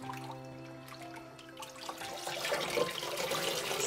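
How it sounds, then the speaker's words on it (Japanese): A dyed cotton stole being rinsed in lukewarm water, a faint trickle and slosh that grows louder and fuller toward the end, heard alone without any talking. "ぬるま湯にあげたストールは染めた時と同様に広げるようにしてすすぎます。"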